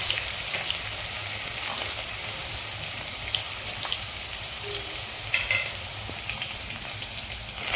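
Potato, carrot and soya chunks fry in a pan with a steady, close sizzle and some light stirring, while a few soft clicks and taps come through; nobody talks.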